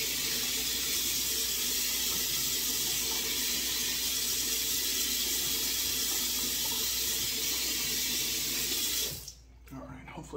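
A bathroom tap runs steadily as a face is rinsed after a shave, a loud, continuous rush of water that stops abruptly near the end, with brief speech over it.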